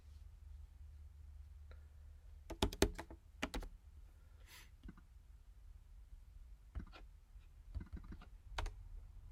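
Quiet clicking of computer keyboard keys as a list name is typed, short irregular clusters of taps separated by pauses, close and soft in a still room.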